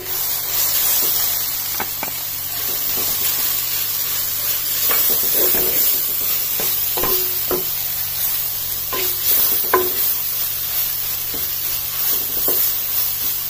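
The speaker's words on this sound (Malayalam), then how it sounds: "ചെറുതായിട്ടൊന്ന് ഒന്ന് മൂപ്പിക്കാം" Banana flower thoran frying in a pan with salt, turmeric, oil and mustard seeds, a continuous close sizzle broken by scattered scraping and stirring knocks from a spatula, with no talking.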